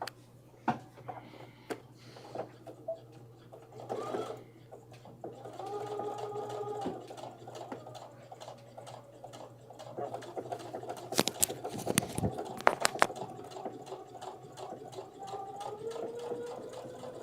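A sewing machine stitches quilt pieces for an autumn wall hanging, its fine rapid whir running in bursts and stops alongside a few clicks and handling noises, while people talk quietly nearby.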